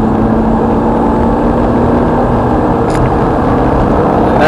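Ferrari F430 on Thruxton Circuit, its engine a loud, steady broadband roar that holds level from start to finish with no quiet gaps, close and dominant throughout.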